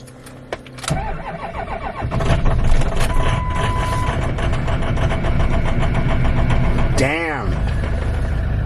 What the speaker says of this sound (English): You know you're living right when your car starts on a snowy morning.